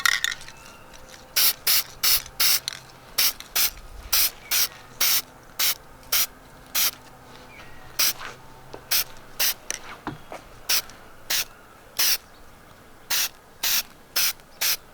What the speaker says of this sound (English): then from here, I'm just gonna try to do the clear coat